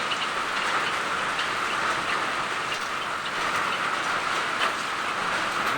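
Rain falls steadily in a rural Philippine setting, a dense, even hiss of drops on surfaces with no pauses or voices, moderately loud and close.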